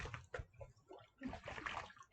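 Water is tossed by hand at a fish pond under construction, making a few quick, faint splashes and sloshes in a short burst with no voices.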